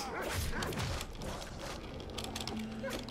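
Barking and yipping from a dog in the Shank video game, quick sharp barks that come and go over clashing, mechanical game effects while a voice talks through it.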